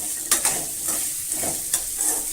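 Sliced radish sautéing in a pan for a spicy mullangi chutney, with steady sizzling broken by several sharp scraping stirs of a spatula, close and moderately loud, no voices.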